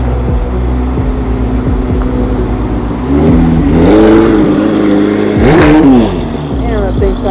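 C8 Corvette ZR1 fitted with a ZTK forged carbon fiber aero kit, engine revving hard through its exhaust with rising and falling surges, loud and close, alongside a steady idle rumble and some talk.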